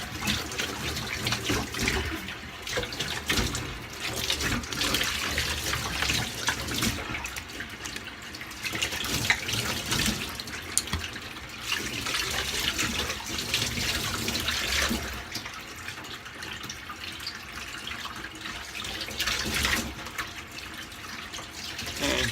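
Tap water running steadily into a sink while a razor is rinsed, a close continuous splashing rush with slight surges and faint drips, no talking.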